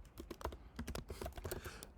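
Someone typing code on a computer keyboard, a quick burst of soft, close key clicks in an irregular rhythm, quiet and alone with no talk.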